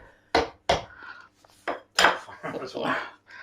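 Small, hard-shelled Araucana eggs are knocked against a bowl and cracked into pancake batter: several sharp, clinking taps close by, with short kitchen handling noises in between.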